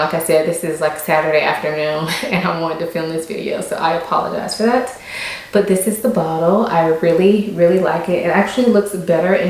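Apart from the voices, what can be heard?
None of the usual background noises is heard.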